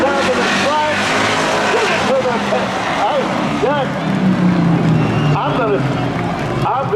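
Drag race cars come off a corner and roar down the strip at a mid-summer spectator drags event, a loud continuous engine roar heard under an excited announcer's commentary.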